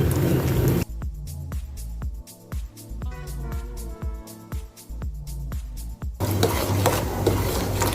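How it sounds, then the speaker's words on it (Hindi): A spoon stirs mango custard in a pan with repeated close scraping and clinking strokes, framed by louder sizzling or bubbling at the start and end. "साथ साथ चम्मच को हिलाते जाना है।"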